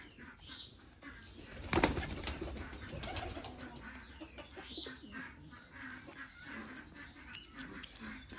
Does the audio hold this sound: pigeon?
yes